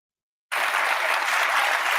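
Studio audience applause on a daytime talk show starts abruptly out of silence and then holds as a loud, dense, steady wash of clapping.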